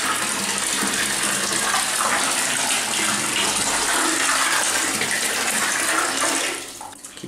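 Water gushes loudly and steadily into a full bathtub, a dense splashing roar that drops away abruptly near the end.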